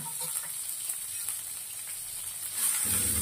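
Onions, cumin, dried red chilies and curry leaves frying in hot oil give a steady, close sizzling hiss that holds throughout and grows a bit fuller and louder near the end.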